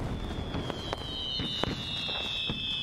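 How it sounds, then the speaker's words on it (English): Ford fireworks over a riverfront crackle and pop in a quick series of sharp bursts, moderately distant, above a steady background wash and a faint high whine. "we're just 3 days away from the Ford fireworks lighting up the riverfront"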